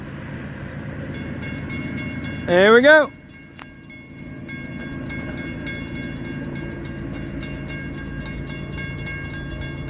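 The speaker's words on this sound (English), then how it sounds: "Waiting on the afternoon intermodal cutoff train." A Florida East Coast Railway intermodal freight train approaches at track speed with a steady rumble, sounding one loud horn blast early on, while a voice speaks briefly.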